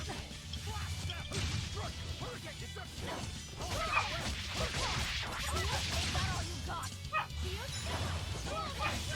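Dogs bark and yip in the video game Tales of Berseria, with repeated sharp barks and whimpers over busy game sounds and crashes, while voices talk throughout.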